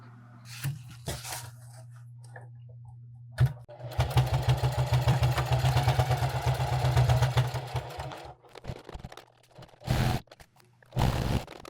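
A sewing machine stitches a half-inch seam across the end of a range bag gusset, a close rapid mechanical whir and patter running for about four seconds, framed by a few short bursts before and after.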